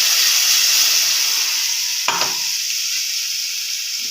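Spice masala frying in a hot pan, a steady broadband sizzle throughout with one brief stir scrape near the middle, close and fairly loud with no talk.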